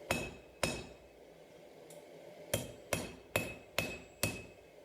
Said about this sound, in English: now I'm switching to my 32-ounce ball peen hammer